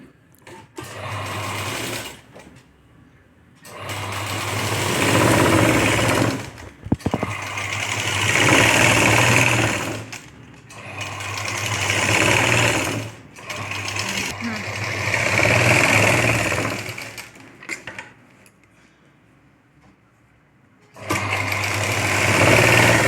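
A sewing machine stitches a mini Paithani sari blouse in long loud runs that stop and restart several times, with a short pause between bursts and quiet gaps near the end.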